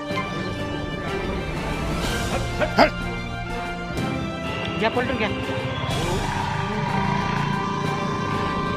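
Stray dogs in a residential labour colony behind a temple bark in short bursts at mid distance, mixed with voices and general street noise.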